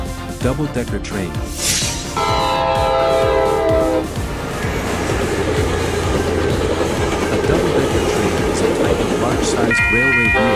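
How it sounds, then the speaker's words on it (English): A double-decker passenger train passes with a sustained horn blast, a steady rumble and rhythmic clatter of wheels over rail joints, loud and near, and a second horn note near the end, while a voice talks over it. "Double-decker train."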